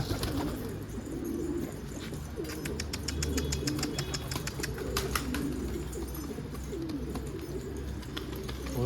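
Racing pigeons cooing in a garden, a steady low cooing bed with bursts of rapid fluttering and chirps, close and continuous with no talk.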